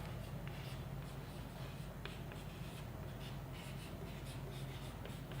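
Pen or marker strokes from writing physics notes on electromagnetic induction scratch faintly over a steady background hiss, with a few light taps and scrapes scattered irregularly and nobody speaking.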